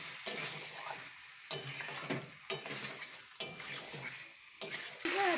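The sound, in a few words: chicken being sautéed and stirred in a pan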